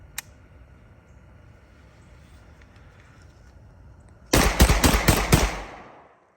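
A G Force GF25 mag-fed 12 gauge shotgun fires four or five quick, loud, close blasts in rapid succession outdoors. They follow a few seconds of quiet background with a faint click.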